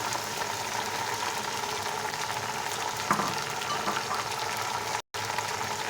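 Tomatoes hitting hot oil in a pan for chicken pulao, a steady close sizzle and crackle of frying that runs throughout, with a brief stir or clatter in the middle.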